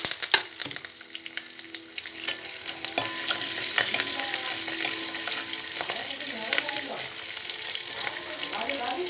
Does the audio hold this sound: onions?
yes